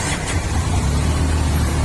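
A 2020 blue Benelli TRK502X adventure motorcycle with about 3,400 km on it runs at a steady, loud, close idle with a deep low rumble, parked at a roadside shop.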